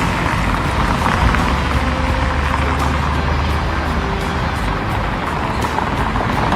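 Steady street traffic on the avenue in front of the Potala Palace square, a continuous wash of passing cars and engines at moderate distance with no talk.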